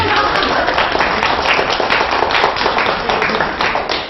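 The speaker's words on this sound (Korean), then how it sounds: "박수 한번 주셔야 되는데." A hall audience claps together during a televised lecture by an ocarina player, producing dense, steady applause that fills the room from start to finish without pause.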